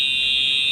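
A fire alarm in Arkansas blares a loud, piercing, steady electronic tone, one continuous shrill note filling the whole brief moment with nothing else audible.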